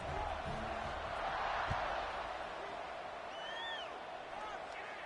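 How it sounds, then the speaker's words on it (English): Steady stadium crowd buzz in the NCAA 26 college football video game after a score, a continuous broad roar swelling slightly midway with a few faint whistles, under a commentator's talk. "this crowd is buzzing after that last score"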